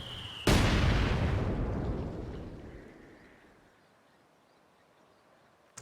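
A mortar shell explodes in a World War II strategy game, one loud close boom with a long rumbling tail that fades over several seconds to near quiet, with no voices.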